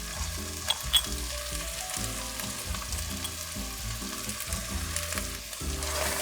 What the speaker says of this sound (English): It's been 5 minutes since the chicken is cooking with the masala